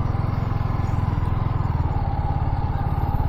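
A motorcycle rides into the parking area at Kozhikode beach, its engine putting out a steady, rapid low throb that stays close and loud throughout, with no one talking.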